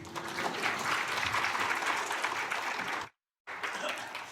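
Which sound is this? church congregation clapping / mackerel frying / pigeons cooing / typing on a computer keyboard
church congregation clapping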